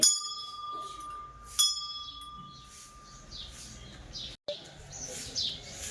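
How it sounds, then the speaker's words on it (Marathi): A temple bell at Nagzari near Shegaon strikes with a clear, sustained metallic ring that slowly fades, followed by a second strike, while birds chirp in the background. "घंटी"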